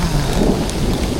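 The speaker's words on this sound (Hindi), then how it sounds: "मैं सच बताऊँ ना तो बारिश रुक ही नहीं रही है" Heavy rain pours steadily during a mountain trek on the Triund trail in Himachal Pradesh, a dense continuous wash of drops with a low rumble beneath, loud and close throughout.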